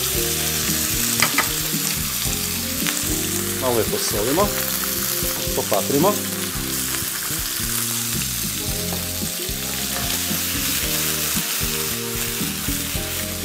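Chicken breast strips fry in olive oil in a hot pan with a loud, continuous sizzle and stirring scrapes, while a voice speaks over the cooking.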